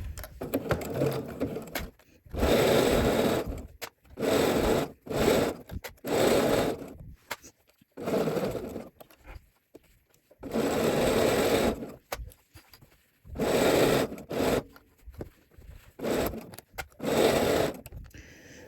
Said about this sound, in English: So we are just going to start, and at 1/4 inch, sew all the way around this neckline.